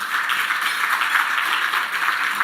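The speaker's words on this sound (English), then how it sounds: "give him a round of applause" Audience applause at an awards ceremony for household workers of the year, a steady dense wash of many hands clapping together, sustained at even loudness with no pauses.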